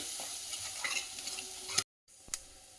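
Ragda made from white peas is stirred and mixed in a pan, giving a close, steady scraping and soft sizzle that cuts off briefly, then returns with a single sharp clink.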